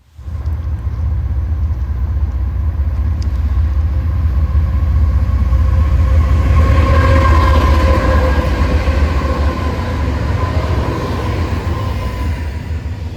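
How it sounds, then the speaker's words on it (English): An eastbound Union Pacific intermodal freight train passes nearby as a steady, loud rumble of rolling wagons, with a faint high squeal rising through the middle and no talk. "But first, we'd see an eastbound intermodal."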